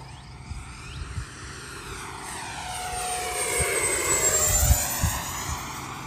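An 80 mm electric ducted-fan RC jet flies overhead with a steady throaty whoosh that swells and falls in pitch as it passes, moderately loud at a distance, with faint wind bumps and no speech.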